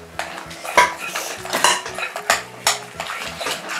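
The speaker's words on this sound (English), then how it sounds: "Just keep stirring" Glue stirred in a bowl for slime-making: irregular clinks and scrapes of a utensil against the bowl in an uneven, busy rhythm, close and fairly loud, with no talking.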